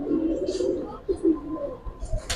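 Close, soft cooing of Giribaz pigeons in a loft, low repeated rolling coos in short phrases, with a brief rustle at the end.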